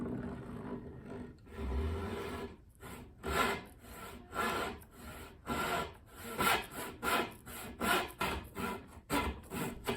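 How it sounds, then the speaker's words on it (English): Tenons for a live edge table base are cut by sawing toward drilled relief holes, giving a steady run of rhythmic rasping wood-cutting strokes, close and fairly loud, with no talking. "By drilling relief holes and then cutting towards those on the inside of the tenons"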